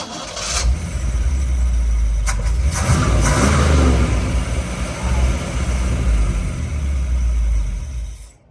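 A 1957 Chevrolet Bel Air, off the road for over twenty years, runs with a steady low engine rumble that swells briefly as it is revved, loud and close throughout with some rasping mechanical noise.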